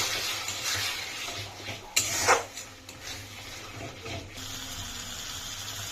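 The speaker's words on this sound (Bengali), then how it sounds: "মশলার মধ্যে আমরা মিশিয়ে দেবো সামান্য পরিমাণ জল" A little water splashed into spices frying on a low flame for Gobindobhog rice khichuri: a brief splash and hiss, then soft stirring and gentle sizzling with no voices.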